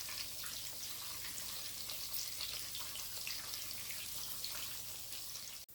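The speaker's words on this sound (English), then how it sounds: "and the plantain is frying" Plantain frying in hot oil in a home kitchen gives a steady, dense sizzle and crackle that holds evenly throughout, close and fairly soft, with no voices over it.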